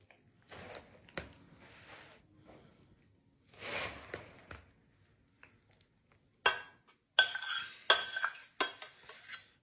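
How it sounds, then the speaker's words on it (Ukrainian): A spoon stirs a hot mixture into crushed biscuits in a bowl in separate bursts of soft mushing and scraping, followed by louder clinks and knocks against the bowl, close-up with quiet gaps between. "Тепер цю гарячу суміш отаку прямо вливаю в печиво сюди і перемішую."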